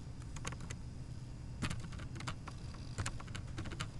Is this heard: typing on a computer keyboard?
yes